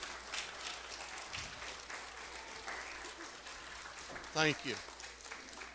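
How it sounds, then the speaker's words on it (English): A congregation at a 2016 church vacation Bible school gathering gives quiet applause, a soft steady patter of clapping that fades slightly, while someone briefly speaks over it near the end. "give them a round of applause"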